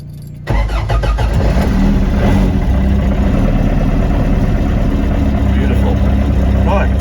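A Ford Escort rally car's engine fires after a brief crank and settles into a loud, rough, steady idle close by, with no talk over it.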